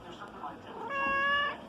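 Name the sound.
cat meowing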